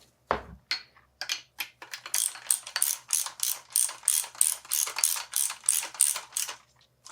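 A ratchet works on bolts of a FOX Float 34 Performance Elite bike fork, a close run of crisp clicking strokes, sparse at first then settling into a steady quick rhythm with no talk.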